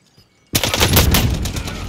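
A .410 Ironhide shotgun firing in Call of Duty Warzone, a sudden loud close blast after a quiet start that runs into a dense, rattling stretch of rapid gunfire.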